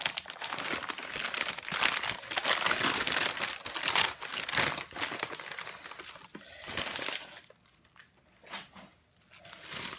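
Plastic packaging around bone-in pork chops crinkles and crackles up close as it is torn open and handled, in dense bursts that thin out into sparser rustles toward the end.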